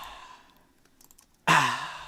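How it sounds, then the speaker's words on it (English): A singer's heavy breathed-out "ah" recorded as breath percussion: after a near-silent lead-in, one loud, close, voiced exhale bursts in and gradually fades. "and there are the ahs"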